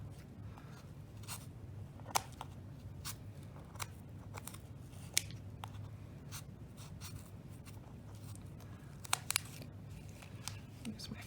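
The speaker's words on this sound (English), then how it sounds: "We're actually going to cut these warp strings right down the middle" Scissors snipping through yarn warp strings on a cardboard loom, a series of sharp, isolated clicks and cuts spaced irregularly over a faint background hum, close and quiet.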